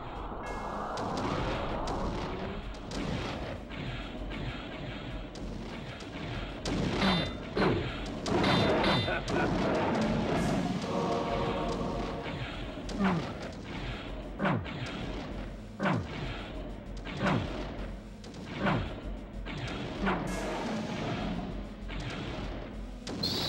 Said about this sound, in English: there's so many dudes that want to shoot me here